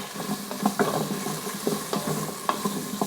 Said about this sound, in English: I'm going to add my onions and my ginger. Just stir that around a little bit.